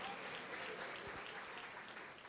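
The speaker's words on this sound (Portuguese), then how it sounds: "pode aplaudir e glorificar o Senhor" A church congregation applauds during a sermon, a faint, distant wash of dense clapping that continues evenly throughout with no clear voices.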